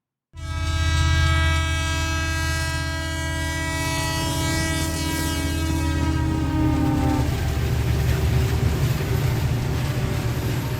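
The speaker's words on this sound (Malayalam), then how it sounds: "വലിയ യാത്രയെപ്പോടെയാണ് അയോധ്യയിലേക്കുള്ള ആദ്യ ട്രെയിൻ കൊച്ചുവേളിയിൽ നിന്ന് പുറപ്പെട്ടത്." A 20-coach passenger train leaves Kochuveli station on its first run to Ayodhya, sounding one long, loud, sustained horn blast over a deep rumble that continues as the train moves off.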